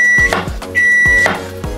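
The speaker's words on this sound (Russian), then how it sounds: "Там что-то микроволновка пищит, уже все готово" A microwave oven signals that it has finished, a high electronic tone sounding twice among nearby kitchen clatter, loud and close.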